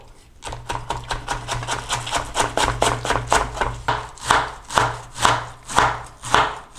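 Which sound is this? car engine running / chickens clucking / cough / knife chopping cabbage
knife chopping cabbage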